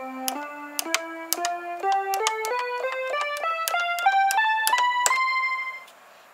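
A cat-shaped Kotofon toy piano plays a rising sequence of about a dozen bright, bell-like electronic notes, each a clean struck tone climbing steadily in pitch, heard close and alone before cutting off.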